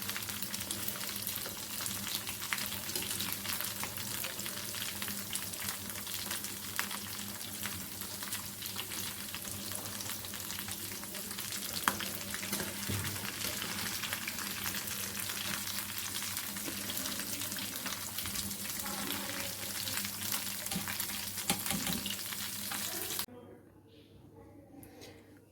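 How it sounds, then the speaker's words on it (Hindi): Aloo tikki potato patties fry in hot oil with a dense, steady crackling sizzle close up that continues for a long stretch, then drops away to near quiet at the end. "ये सारी टिक्कियों को मैंने फ्राई कर लिया"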